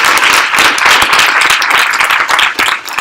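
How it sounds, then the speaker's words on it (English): A quick round of applause from an audience at a university fintech town hall, dense steady clapping at close range, continuous and loud for a few seconds before tapering slightly. "So can we give a quick round of applause?"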